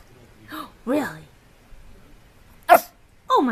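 Puppy giving a few short, high yips and barks with pauses between them, heard close and fairly loud, with one sharp burst near the end.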